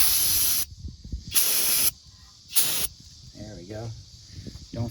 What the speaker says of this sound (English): when you spray it with brake clean.